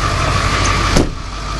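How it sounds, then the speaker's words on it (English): Steady car engine drone heard from inside the car, about two feet from the engine, a constant low rumble with a faint whine, briefly swelling near the end before settling lower. "This is inside the car, about 2 feet away from the engine."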